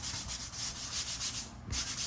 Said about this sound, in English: let's do a little bit of sanding on this side.